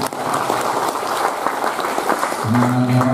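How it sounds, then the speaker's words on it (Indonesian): A crowd claps loudly at a Democratic Party regional congress in Papua Pegunungan, a dense, crackling burst of applause that runs the whole moment, with a low tone joining near the end. "beberapa tepuk tangan dulu yang meriah"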